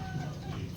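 A chicken gives a short, close cluck during a muddy chase to catch fowl; one brief burst.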